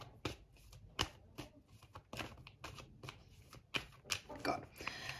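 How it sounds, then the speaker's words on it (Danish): Tarot cards being handled and drawn from a deck, with quiet crisp snaps and shuffling rustles at irregular intervals, close and soft, while a person talks over them. "Trækker jeg lige et kort her."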